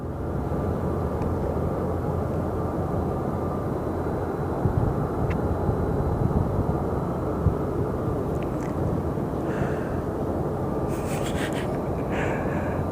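An airplane taxis at Sky Harbor Airport, heard as a steady low jet engine rumble at a distance, continuous throughout with a few faint higher whines and clicks near the end.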